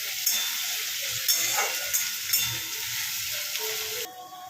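Onions frying in oil until browned for chicken dopeyaja, a steady close sizzling hiss with a few stirring scrapes, dropping off abruptly near the end.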